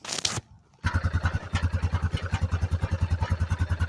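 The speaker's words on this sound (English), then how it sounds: "Now I'm going to start it and idle it for a few minutes" A Yamaha Grizzly 660 ATV engine cranks briefly, falls silent for a moment, then fires and settles into a loud, close, steady idle with an even chugging pulse.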